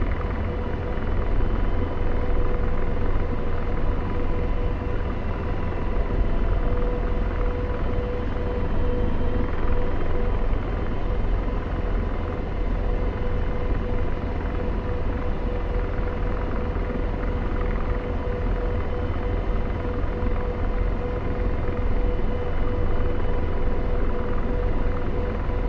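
An AH-64D Apache helicopter flies in the DCS World simulator, its rotor and turbine producing a constant loud rumbling drone with a steady tonal whine throughout, no speech present.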